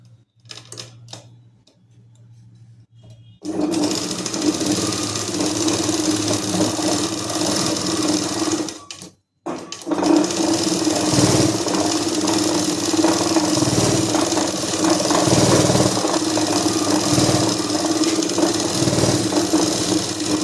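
Sewing machine stitching a seam on a salwar, a loud close steady whir that runs for several seconds, pauses briefly, then starts again with a rhythmic pulsing beat.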